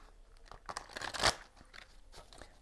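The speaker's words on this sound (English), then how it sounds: "All right, one more shuffle here." A deck of tarot cards is shuffled, a short papery crunch and riffle with a sharp snap in the middle, close and quiet.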